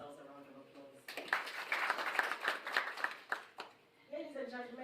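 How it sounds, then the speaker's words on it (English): A short burst of clapping from an audience at a live inaugural event, lasting a few seconds between stretches of a person speaking. "Please give yourselves a round of applause."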